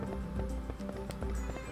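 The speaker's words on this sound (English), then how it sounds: "You're such a good horse." Horse hooves clip-clop in the video game Barbie Horse Adventures: Wild Horse Rescue, a quick, steady rhythmic trot of hoofbeats over looping game music.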